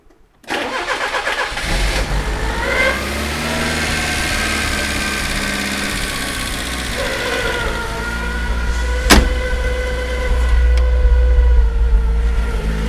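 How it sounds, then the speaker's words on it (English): Peugeot 305 engine cranking on a Lucas rebuilt starter motor after decades sitting in a hedge, a loud close whirring crank that catches and settles into a steady rough idle, with a brief rev near the end. "Nothing like a Lucas rebuilt starter motor"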